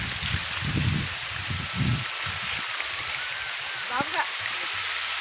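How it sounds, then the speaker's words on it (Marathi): Rain falls steadily on a village farm during rice-transplanting season, a constant broadband hiss broken by muffled low thumps and indistinct voices in the background. "पाऊस पडतोय."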